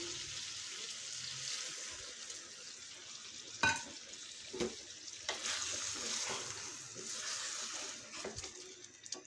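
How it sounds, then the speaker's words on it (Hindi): Chicken and capsicum curry fries with a continuous hiss as about half a cup of water goes in, bringing a surge of bubbling and sizzle broken by a few spoon clanks against the pan; no one speaks. "तो जनाब अब तकरीबन आधा कप हम पानी डालेंगे"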